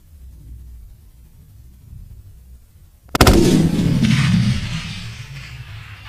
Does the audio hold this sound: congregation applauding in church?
no